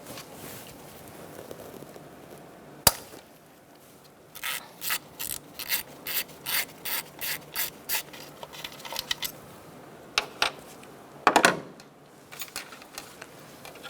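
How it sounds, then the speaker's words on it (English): Ratchet wrench with an 8mm socket loosening a nut on a 2004-2009 Mazda 3 engine during spark plug work: a sharp metallic click, then a run of about a dozen evenly spaced ratcheting clicks, followed by a few more scattered clicks, close and fairly loud. "Using an 8mm socket, we're going to take off this nut."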